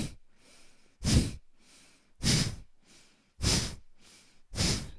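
Forceful exhales during Kundalini yoga kicks, four loud, sharp breaths through the nose and mouth at an even pace about one second apart, with softer inhales between them.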